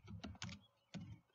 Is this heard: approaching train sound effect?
no